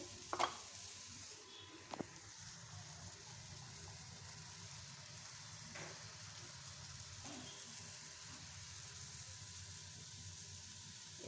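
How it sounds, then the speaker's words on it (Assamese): Fish with carrots simmering in a wok, a faint steady bubbling hiss with a couple of brief clinks near the start and occasional soft stirring sounds. "এতিয়া কেৰাহীত উতলি আছে"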